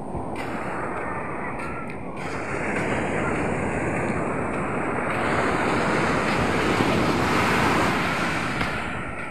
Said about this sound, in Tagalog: Ayan o, medyo malaki-laki ang alon.